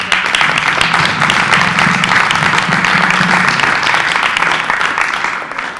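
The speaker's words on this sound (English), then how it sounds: "So round of applause again for that." A room full of people at a school board meeting claps steadily in a loud, dense round of applause lasting several seconds, with a faint voice murmuring underneath.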